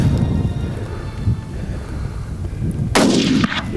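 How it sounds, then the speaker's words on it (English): During an antelope hunt in Wyoming, a single loud rifle shot cracks outdoors near the end, booming and tailing off over a rough, windy background with no speech. "he put on a good shot, and the antelope just went down"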